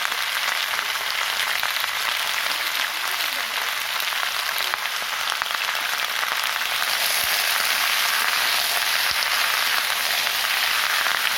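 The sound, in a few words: frying spices with turmeric being stirred in a pan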